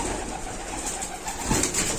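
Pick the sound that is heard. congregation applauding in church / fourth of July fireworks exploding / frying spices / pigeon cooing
pigeon cooing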